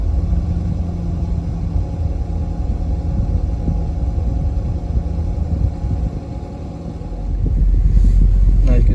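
A Land Rover Discovery 2 V8 with a decat exhaust idles with a steady low rumble, then its RPM rises and the exhaust note swells louder toward the end, close up.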